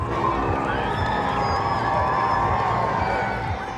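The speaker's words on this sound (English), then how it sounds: "The King arrived to cheers and flag waving from the hundreds of people who'd gathered." A crowd of hundreds gathered in Cardiff cheers and whoops as King Charles arrives, a steady wash of voices and shouts, fairly close and unbroken, fading slightly at the end.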